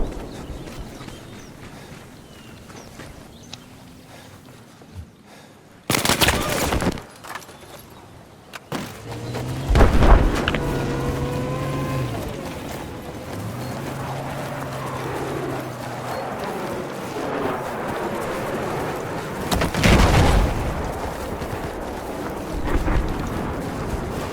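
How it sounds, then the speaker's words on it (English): Deep booming cannon blasts in the video game Battlefield 4 go off in the distance at intervals amid a low rumbling battle ambience, with a few louder, closer explosions. "Listen to the birds as the cannon fire comes in."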